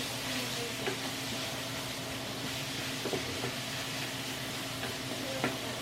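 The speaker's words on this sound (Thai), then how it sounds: "หมูเราก็จะมาผัดอย่างนี้นะคะ" Pork is stir-fried in a pan for a Thai home-cooked dish, with a steady, close sizzle broken by occasional sharper scrapes and clicks from stirring.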